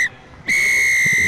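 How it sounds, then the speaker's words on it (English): A referee blows the final whistle at a Zahira school rugby sevens match, one short shrill blast, a brief gap, then a long loud sustained blast over faint crowd noise. "that's the final whistle coming in from the referee"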